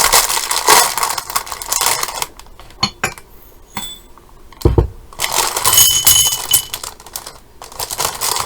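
Crinkly plastic bag rustling in bursts, loud and close, with pauses and a few sharp crackles between handling.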